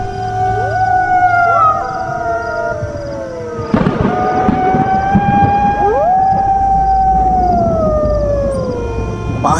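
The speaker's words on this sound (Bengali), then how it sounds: "রাতের হাওয়া ঠান্ডা, আর কানে ভেসে আসছে শিয়ালের ডাক।" Jackals howl at night, long rising and falling wails overlapping one another and sustained for several seconds, with a sharp burst of noise partway through.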